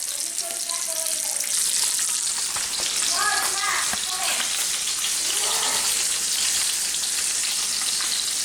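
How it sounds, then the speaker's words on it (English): Sausages sizzle and crackle steadily in a hot frying pan, a dense continuous spitting hiss with a few faint background voices. "I'm cooking sausages right now because I feel like sausages."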